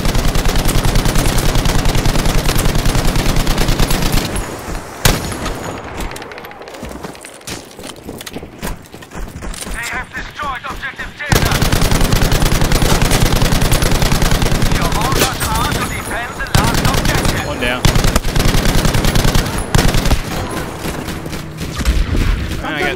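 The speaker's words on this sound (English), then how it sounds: "Snipers shooting at me here." Battlefield V combat with rapid machine-gun bursts, scattered gunshots and booms, dense and loud nearly throughout, easing briefly mid-stretch before heavy firing resumes, with voices now and then.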